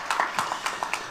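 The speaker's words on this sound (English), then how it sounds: "Let's get a round of applause for our sponsors" Audience clapping at a live launch event for a football league, a scattered patter of hand claps spaced through the moment, moderately loud and close, with no talk over it.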